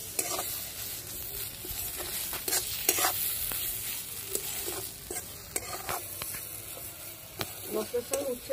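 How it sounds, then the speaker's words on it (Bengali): Bitter gourd fries in spices in a hot pan, a constant sizzle under repeated stirring and scraping strokes that go on throughout, close and steady. "মশলার সঙ্গে ভাজা উচ্ছেটা ভালো করে ভাজা ভাজা করে নিলাম"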